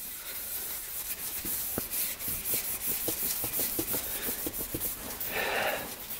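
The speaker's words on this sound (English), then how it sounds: "Take the Scotch-Brite pad and just scuff it up a bit just so that we can deglaze it a bit before putting the new piston in" A Scotch-Brite pad scuffs the cylinder wall of a Yamaha YFZ450 engine to deglaze it, producing a steady, close, gritty rubbing with short scratchy strokes throughout.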